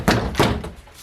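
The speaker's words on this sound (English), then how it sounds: "Start by removing the door trim carefully." Door trim being pried off a Honda Civic EG: two quick, hollow plastic thunks close by, the clip popping loose from the panel, each dying away fast.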